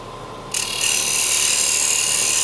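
A gouge making a push cut across wood spinning on a lathe, a sustained bright hissing scrape that starts abruptly and then holds steady and loud.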